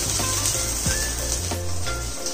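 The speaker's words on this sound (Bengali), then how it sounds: "এবার বেগুনগুলো ভেজে নেব।" Eggplant pieces frying in hot oil after fish for a Bengali tangra fish curry, a loud continuous sizzle and crackle with a few spatula scrapes, close and without voices.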